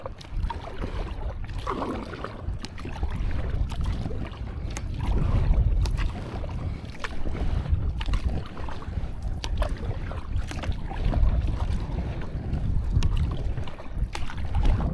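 Kayak sprint with a wing or Euro blade paddle, rhythmic splashing strokes in quick succession over steady water movement and wind buffeting the microphone, close and continuous with no talk.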